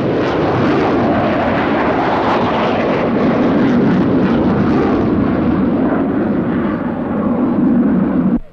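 An F-16 fighter jet with a Pratt & Whitney afterburning turbofan flying past at an air show, a loud, continuous roaring rumble that holds steady throughout before cutting off abruptly.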